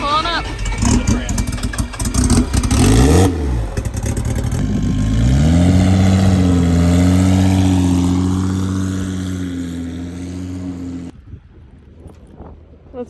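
A car engine revving hard while warming up the rear tires, loud close revs climbing and holding a high drone before dropping away, with people talking over the start.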